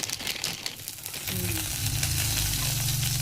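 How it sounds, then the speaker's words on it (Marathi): Cumin seeds dropped into hot oil in a pan while making thin besan, sizzling up loudly after a brief quieter start and frying steadily up close. "भाजलेलं तेल वापरलेलं आहे आपण आणि त्याच्यामध्ये आपण जिरे टाकतोय"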